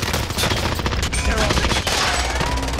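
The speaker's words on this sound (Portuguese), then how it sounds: "Um tiro!" A burst of rapid gunfire from a first-person shooter video game rattles out in loud, dense volleys through the whole moment, with no clear talk over it.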